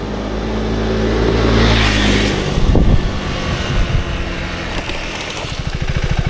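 A 2025 KTM 390 Enduro R single-cylinder motorcycle rumbles steadily while riding off-road, with a constant engine drone and wind buffeting, recorded close on the bike and loud throughout with no talking.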